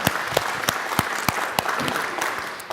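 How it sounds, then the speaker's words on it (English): A conference audience at a business event applauds, a steady wash of clapping with several sharp, close individual claps at regular intervals standing out, moderately loud and continuous. "we'd like to give them a round of applause"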